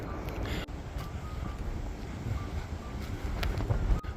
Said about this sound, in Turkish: Bugün rüzgarlı arkadaşlar